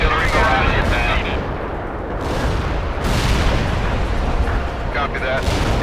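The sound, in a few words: heavy artillery barrage from video game World in Conflict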